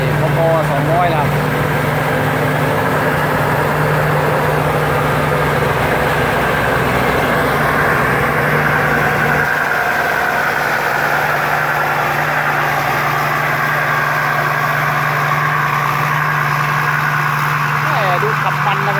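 The 260 hp engine of a rice combine harvester runs at a steady idle with a low, constant drone and a droning hum, close by, while someone talks over it.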